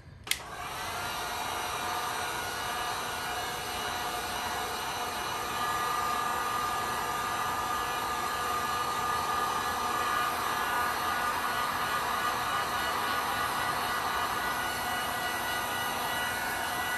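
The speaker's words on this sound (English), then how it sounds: "I'm just gonna hit it with a heat gun." A heat gun blows a steady, loud whooshing whine over resin coasters, clicking on at the start and running continuously, growing slightly stronger midway, with no talking.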